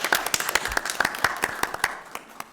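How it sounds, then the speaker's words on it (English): Board members at a directors' meeting clap for a newly appointed board treasurer, a short, sparse round of individual hand claps from a small group indoors, moderately loud and fading toward the end. "We can clap."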